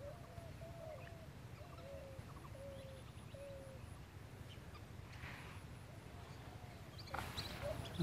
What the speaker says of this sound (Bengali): এই যে হাঁস পাখি মনে হয়।